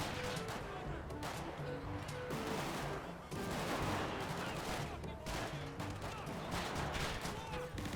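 In GTA V, a small tank fires explosive shells: rapid bursts of gunfire and booming explosive shots repeat throughout, dense and loud, with game music and effects underneath.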